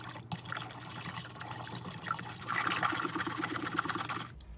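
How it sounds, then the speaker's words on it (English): A dough whisk churns through sourdough starter in a bowl, a steady wet sloshing and slapping that grows a little busier toward the end before stopping abruptly. "I'll whisk it up with the dough whisk until it's nice and frothy."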